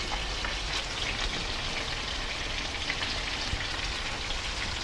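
Asparagus and green beans sizzle steadily in a hot pan, a dense, even crackle that runs on with no voices over it.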